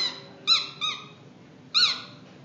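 A child breathing through a squeaky dog chew toy he had inhaled, giving three high, whistling squeaks: two quick ones close together, then a pause and a third, each rising and falling in pitch.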